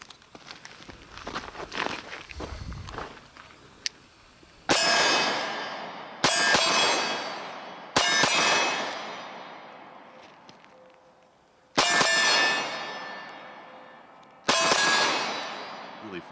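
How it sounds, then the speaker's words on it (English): Five sharp pistol shots from a Beretta PX4 Storm Compact with a DPM recoil reduction system, fired at 10 yards and each followed by a ringing clang of steel targets, spaced a second or two apart after some quieter handling noise. "I was doing a little bit of point shooting there from 10 yards away."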